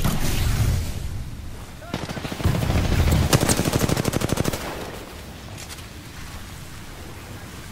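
Rapid bursts of automatic gunfire in a multiplayer shooter game, loud and rattling, with a long sustained volley in the middle and faint talk underneath.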